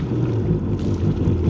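A running Yamaha GP1200R personal watercraft engine after a full rebuild, heard as a loud, close, steady low rumble with wind buffeting over it and no talk.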